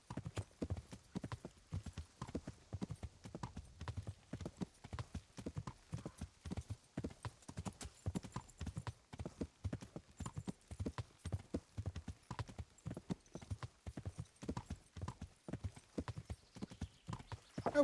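A horse's hooves clip-clop in a steady, continuous trotting rhythm throughout in the video game Kingdom Come Deliverance, fairly close and clear with no talk over them.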